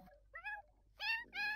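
Cats in The Sims 4 give a string of short meows, a brief call followed by two louder, longer ones close together, heard over a quiet background.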